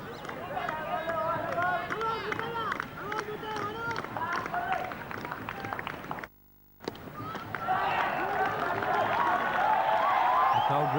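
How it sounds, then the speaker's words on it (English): Crowd at a 1993 Sri Lanka v England Test match in Colombo, a broad murmur and cheer swelling up near the end after a short gap, with a commentator talking over the earlier part. "The crowd responding to Lewis on that occasion"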